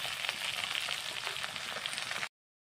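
Kawoi fish frying in hot oil for a fish curry, a close, bright, steady sizzle with crackling pops throughout, stopping abruptly after about two seconds.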